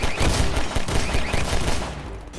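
Rapid turret gunfire in a Roblox video game, a dense, loud burst of continuous automatic shots rattling for a couple of seconds without pause.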